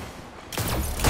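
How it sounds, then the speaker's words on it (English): Heavy barrage of gunfire erupts halfway through in a video game, a dense burst of loud shots following a brief quiet stretch. "Heavy ammo inbound"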